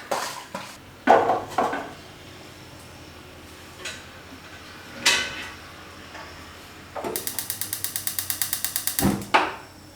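Freshly washed fish-mint leaves are tipped into a pot for steaming, giving scattered knocks and clatters of cookware followed by a quick rattling run of metallic taps, fairly close and without speech.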